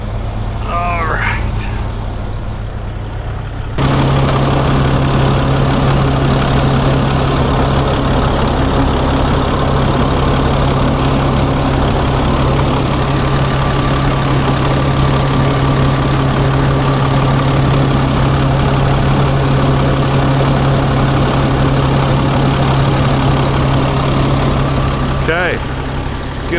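A truck engine idles before pulling out a stuck vehicle: after a few quieter seconds it settles into a loud, steady low rumble that holds without change, with a voice briefly audible near the start and end.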